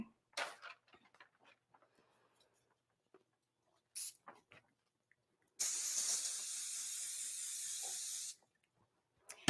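An aerosol spray can hissing onto a sublimation design, one sustained burst of nearly three seconds, close and loud, with a few shorter sprays and soft handling clicks before it.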